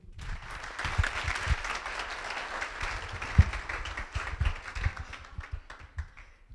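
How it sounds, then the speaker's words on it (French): A conference audience applauds the invited guests with dense, steady clapping that holds at moderate loudness for the whole stretch, a few sharper claps standing out, with no talking. "Veuillez, s'il vous plaît, applaudir nos invités."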